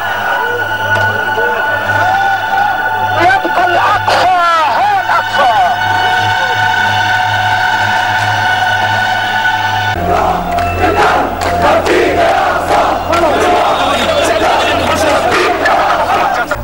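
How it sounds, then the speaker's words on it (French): Angry crowd of Palestinian protesters shouting as they push past a security cordon, a dense roaring mass of voices with loud cries rising over it and vehicle engine noise underneath, close and continuous. "une foule de Palestiniens en colère déborde le cordon de sécurité et tente de lapider Sharon"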